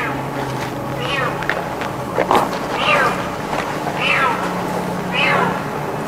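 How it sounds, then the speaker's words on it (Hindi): A kitten meows indoors, giving several rising-and-falling cries spaced a second or so apart, close and clear over a low room hum, with some faint rustling between the calls. "बिल्ली का बच्चा है ये"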